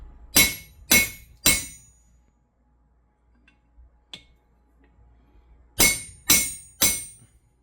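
Metal sockets clinking as they are handled in a garage while vehicles are prepped for a mudding trip, three sharp ringing clinks, a quiet pause with a faint tick, then three more clinks.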